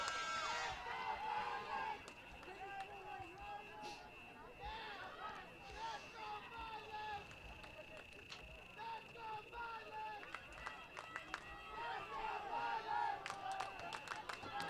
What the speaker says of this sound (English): Crowd starting to get back into it.